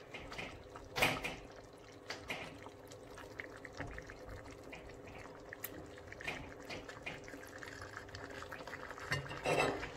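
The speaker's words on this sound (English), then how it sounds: "Now I'm going to bring back the fish and cover it up and let it boil." Fish and egusi soup boils in a covered pot, a low, steady bubbling and simmering with occasional louder pops and clatters, quiet and continuous.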